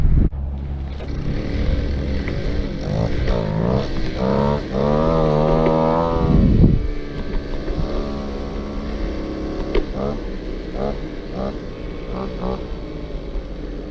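A Go-Ped scooter's small engine, revived after sitting for over fifteen years, runs steadily during a ride, a loud buzzing drone that rises and falls with throttle and brief revs, with wind rumble and occasional talk over it.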